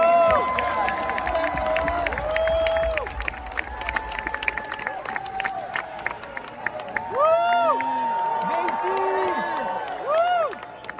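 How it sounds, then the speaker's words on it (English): Fans at a postgame basketball Q&A cheer and whoop for an NBA player while scattered clapping runs underneath, the crowd noise swelling in bursts with loud shouts and whistles over a steady roar. "Ladies and gentlemen, big round of applause for Jordan Clarkson"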